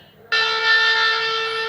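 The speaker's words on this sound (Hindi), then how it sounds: "शंख की ध्वनि हुई, इसका मतलब ये हमारा स्टार्ट हो गया।" Conch shell blast from a talking Bhagavad Gita reader device, a single sustained bright horn-like tone that starts abruptly after a brief quiet and holds steadily, loud and close.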